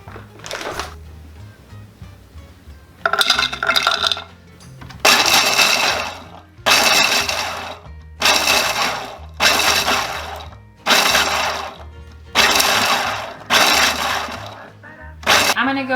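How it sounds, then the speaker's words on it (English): A food processor chops pecans in loud, close repeated pulses, about eight bursts of harsh rattling whir roughly a second each, separated by short pauses, with no talking. "she will chop those up in my food processor"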